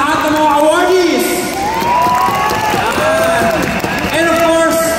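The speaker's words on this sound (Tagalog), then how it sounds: "palakpakan natin lahat ng mga awardees!" A crowd at an awards night claps and cheers loudly for the awardees. Clapping runs dense and unbroken while excited shouts and whoops rise and fall above it the whole time.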